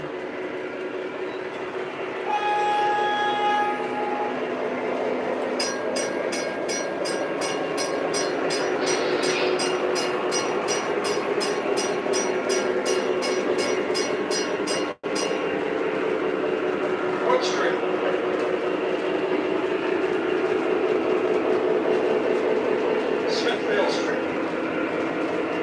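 An MTH Rail King model train with Proto Sound 3 runs, giving a continuous rumbling rail roar with rhythmic clicking passages and a brief chime-like tone, close and steady.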